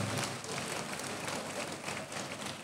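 Church congregation clapping during a sermon, a brief, faint patter of scattered applause with no speech.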